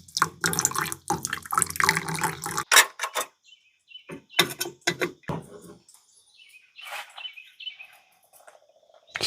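Cowboy coffee being poured from a pot at a riverside campsite, a few short bursts of liquid splashing up close, then quieter gaps with birds chirping in the background.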